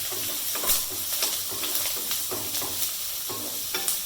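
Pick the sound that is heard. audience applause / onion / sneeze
onion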